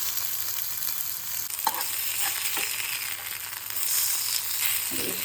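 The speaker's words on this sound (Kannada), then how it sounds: "ನಾನಿವತ್ತು ಶಾಲೋ ಫ್ರೈ ಮಾಡ್ತಾಯಿದ್ದೇನೆ" Spinach (palak) cutlets shallow fry in hot oil in a pan, giving a steady close sizzle with light crackle and a few soft clicks of utensil movement, no voices.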